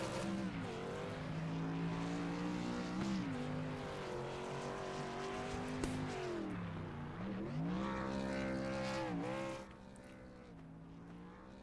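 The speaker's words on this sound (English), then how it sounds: "He's going to show us exactly how to do a burnout." A race truck in a Las Vegas truck series racing video game does a burnout, with a loud sustained engine roar rising and falling in pitch over several revs before it drops away near the end.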